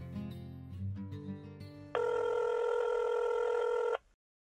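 A telephone rings steadily and loudly for about two seconds after a brief stretch of softer tonal sound, then cuts off abruptly as the call goes unanswered.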